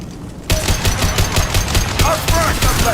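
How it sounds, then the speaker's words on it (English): Rapid automatic gunfire from Blue Suns mercenaries and Vorcha in the video game Mass Effect 2, loud and close, with dense repeating bursts that start abruptly and run continuously alongside brief whizzing effects. "Blue Suns and Vorcha shooting anything that moves."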